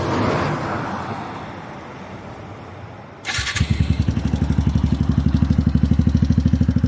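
A Suzuki Gixxer 155 motorcycle fitted with an Akrapovic exhaust fires up after some background noise, then idles close by with a loud, evenly pulsing exhaust burble.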